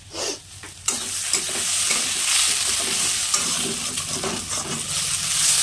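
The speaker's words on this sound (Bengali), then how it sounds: "আর আমার জন্য ভাজছি পেঁয়াজ দিয়ে লাউয়ের খোসা" Bottle gourd peel frying with onion in a pan, starting with a few quiet stirring scrapes before a loud, steady sizzle takes over and runs to the end, with occasional clicks of a spatula.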